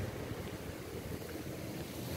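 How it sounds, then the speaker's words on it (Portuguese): Strong wind gusting as a heavy rainstorm arrives in Aparecida de Goiânia, Brazil, a steady loud broadband roar and rumble buffeting the microphone throughout, with no one talking. "Olha o vento aqui,"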